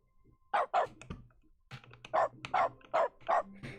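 A dog barks in the video game The Stanley Parable: a rapid series of sharp, close barks in an uneven rhythm, with a short pause near the start and a low hum underneath.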